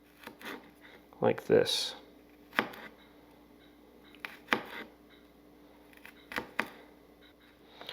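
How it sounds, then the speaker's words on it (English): A knife cuts strips into a garlic clove, making small, sharp tapping clicks on a board at irregular intervals, with a person talking between the cuts. "I'm going to take the clove and I'm going to cut strips along the clove without going into that root"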